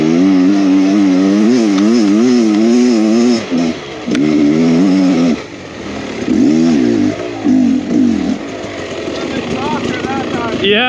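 A Beta X Trainer 300 enduro motorcycle riding down a drop ledge at a mine site, its engine droning loudly and close with rising and falling revs, briefly dipping and then revving again, while a voice talks over it.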